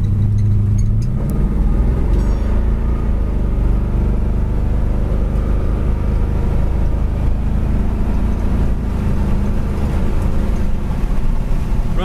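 A 1970 Chevy Nova Yenko cruising down the road at around 60 mph, its engine a steady low drone with road and wind noise, loud and continuous throughout with no one talking.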